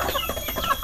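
Free-range village hen clucking close by, a short run of soft repeated clucks with steady background noise and no voices.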